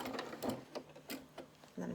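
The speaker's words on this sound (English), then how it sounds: "I'm just going to do a couple of stitches forward and back." A sewing machine runs a couple of short stitching bursts forward and back, brief separate whirs close by and fairly quiet, with soft handling sounds between them.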